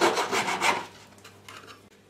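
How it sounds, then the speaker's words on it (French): A hand file rasps along the cut edges of a metal whistle plate in a few quick strokes, loud at first and then lighter and scratchier, with no talking. "Pour retirer les traces de coupe, je vais donner un petit coup de lime sur tout le pourtour."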